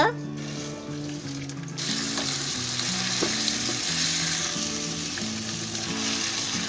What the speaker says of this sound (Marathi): चांगले गोलून ते तुपामध्ये चांगले भाजून घ्यायचे